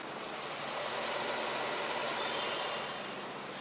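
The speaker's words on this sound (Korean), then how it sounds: "먼저 엔진 소음부터 체크해 보도록 하겠습니다" A steady, smooth LPG SUV engine hum at idle, even and continuous throughout, with no knocks or other sounds.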